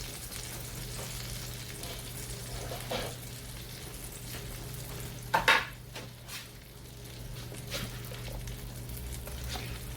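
Steak frying on a griddle with butter and roughly cut garlic, a steady low sizzle with occasional clinks and scrapes of a utensil while basting, close and moderately quiet.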